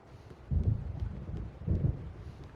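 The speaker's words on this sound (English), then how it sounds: "The storm is almost here." Thunder from an approaching storm in Alan Wake, two low distant rumbles about a second apart that are fairly faint, over quiet wind and rain.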